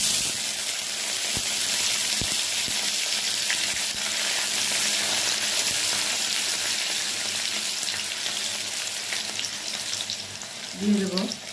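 Chopped onion frying in hot oil with whole cumin, star anise, black cardamom, cinnamon and cardamom, a steady loud close sizzle throughout with a few stirring clinks and a faint voice near the end.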